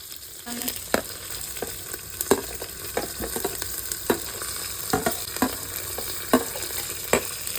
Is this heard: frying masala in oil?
yes